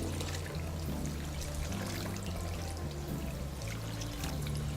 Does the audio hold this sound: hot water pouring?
yes